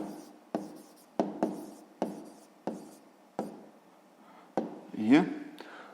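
A pencil writes down a math answer in a series of short, sharp scratching strokes, roughly eight taps and scrapes close by, ending in a longer scribble.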